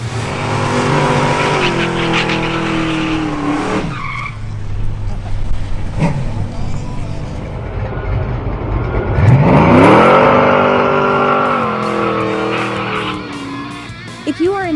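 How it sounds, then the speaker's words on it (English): A 1967 Ford Mustang at a drag strip, its engine roaring and revving through rising sweeps of pitch, loud and close, with a sharp surge near the end. "powerful 1967 Ford Mustang"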